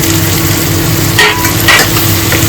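Coriander powder and other spices tipped into a pan all at once and stirred, with a steady frying sizzle throughout and a couple of brief scraping stir strokes standing out.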